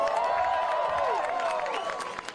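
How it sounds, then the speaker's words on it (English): Outdoor protest rally crowd applauding and cheering, a sustained wash of clapping with voices rising over it, fairly loud and continuous. "Give yourselves a round of applause."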